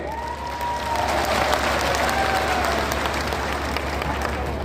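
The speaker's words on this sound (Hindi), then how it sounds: "अभी ताली बजाई है" A large crowd at an outdoor political rally applauds steadily, a broad, even wash of clapping and murmuring voices that holds at a constant level throughout, with a low hum underneath.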